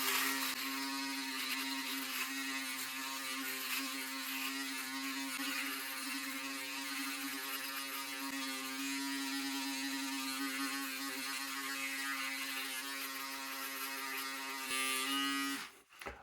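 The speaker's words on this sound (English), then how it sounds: "But let's continue shaving here." Manscaped Handyman electric foil shaver running steadily while shaving, a constant close buzzing hum that holds for about fifteen seconds and then cuts off abruptly, with no talking.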